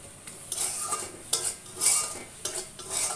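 A spoon scraping and stirring chicken and green papaya curry in a pot, cooked without oil as the spices reduce: several close, rhythmic scrapes with faint sizzling between them and no voices.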